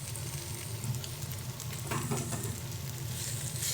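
Diced potato goes into a kadai of vegetables already frying, bringing steady, close sizzling with a few stirring scrapes and soft clatters near the end, no voices.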